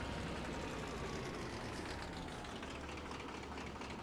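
A tractor engine in the video game Farming Simulator 25 runs steadily, a continuous low droning rumble at an even level, close and unbroken, with no speech.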